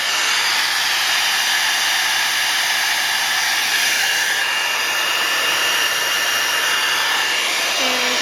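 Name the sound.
embossing heat tool blowing hot air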